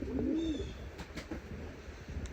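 Racing pigeons coo in a loft, with one clear low, rolling coo up close followed by softer scattered bird sounds and rustling in the background.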